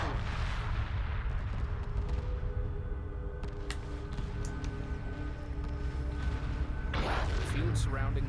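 Weapons fire rings out in a space battle in the Homeworld video game, with scattered booms and sharp blasts over a dense, continuous rumble, including a louder burst near the end.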